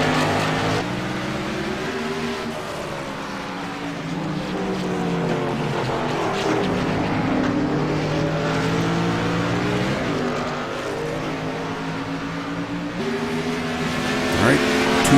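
Race cars running laps on a track, a continuous roar of engines with rising and falling pitch as they pass, under steady commentary from an announcer.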